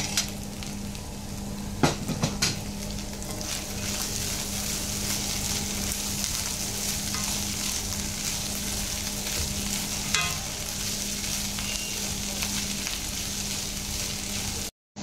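Pork sisig sizzles and fries in a pan while being stirred, with a steady hiss and a few sharp scraping clicks near the start, heard alone without talk.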